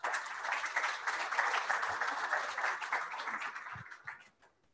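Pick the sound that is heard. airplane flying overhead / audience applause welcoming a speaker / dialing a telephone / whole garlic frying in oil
audience applause welcoming a speaker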